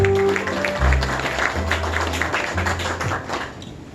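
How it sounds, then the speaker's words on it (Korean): Mourners at a memorial ceremony applaud in welcome, a scattered patter of clapping with low music or tones underneath, fading toward the end. "추모객 여러분 다시 한번 큰 박수로 환영해 주시기 바랍니다."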